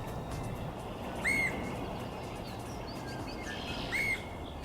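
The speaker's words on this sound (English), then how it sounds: "the red-headed woodpecker for a while on top of a dead tree stump, doing a few calls as well" Two short, clear calls of a red-headed woodpecker on a dead tree stump a few seconds apart, each a rising squeaky note over steady outdoor background noise, with faint chirps in between.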